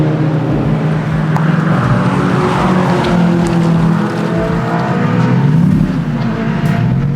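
A Lexus LS400 laps the Brands Hatch Indy track, its engine droning loud and continuous with shifting pitch, along with tyre noise and some squeal through corners.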